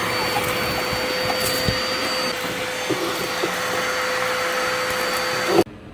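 A vacuum cleaner runs steadily while vacuuming out the chassis of a high-mileage BMW E46 M3 during an interior swap, a continuous close whine with occasional bumps of the nozzle, cutting off abruptly at the end.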